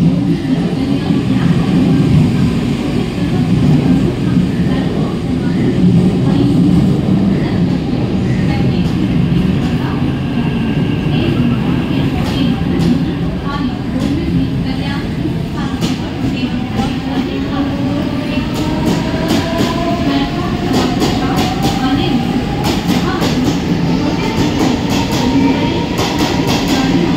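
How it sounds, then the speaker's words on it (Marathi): A Mumbai fast local train bound for Badlapur at platform 3 of a railway station, a loud continuous rumble of wheels and carriages with rhythmic clatter and rising squeals, crowd murmur beneath. "प्लॅटफॉर्म क्रमांक 3 वर आलेली लोकल 10:37 मिनिटांची बदलापूरला जाणारी जलद लोकल आहे."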